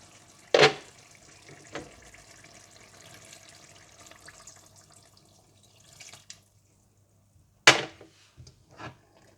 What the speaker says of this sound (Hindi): और अब आप जितनी ग्रेवी रखना चाहते हैं इतना पानी डाल लीजिएगा।